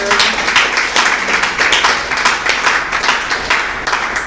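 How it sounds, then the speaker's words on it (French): A church congregation at a sisters' worship service in Treichville applauds together, a dense, steady wash of clapping that carries on for several seconds without a break. "Applaudissons les sœurs"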